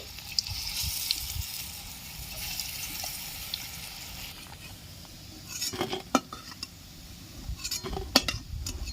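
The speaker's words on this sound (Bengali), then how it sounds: "একইভাবে আমি আরও ডালের বড়া ভেজে নিচ্ছি" More lentil fritters frying in a pan of oil, a faint, quiet sizzle with scattered clinks and scrapes of a spatula against the pan, growing busier toward the end.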